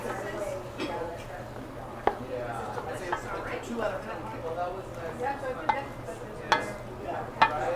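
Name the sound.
stirring brown stew chicken ingredients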